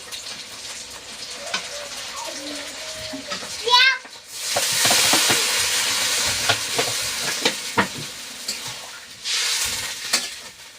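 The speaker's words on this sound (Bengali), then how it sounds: "এবার জল ঢেলে দিচ্ছি" Water is poured onto seared meat pieces in a hot pan, setting off a sudden loud, steamy hiss that keeps sizzling with scattered clinks; a voice talks briefly before the burst.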